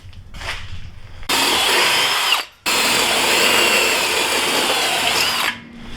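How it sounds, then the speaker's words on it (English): A power drill bores holes through a car body panel in an engine bay, a loud steady whine running about a second, cutting off briefly, then resuming for three more seconds before stopping. "I drilled the holes out, put some paints just to make sure it doesn't rust in the future"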